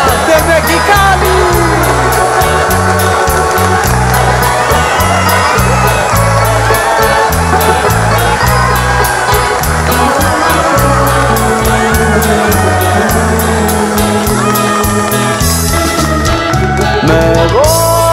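Live concert audience in Los Angeles applauding and cheering for a Mexican band, a dense steady roar of clapping and shouts under loud ongoing music.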